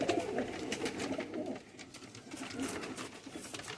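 Young pigeons, breeder stock, cooing softly and repeatedly at close range in low murmuring phrases, with faint background noise and no talk.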